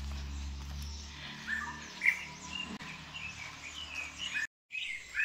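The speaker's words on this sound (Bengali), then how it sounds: "কার্শিয়াঙের এদিকটায় এতই নিরিবিলি যে পাখিদের আলাপচারিতাগুলো বেশ ভালোভাবেই শোনা যায়" Birds in the quiet Kurseong hills give scattered, faint chirps and short calls over a soft, low background hum. There is a brief silent break near the end.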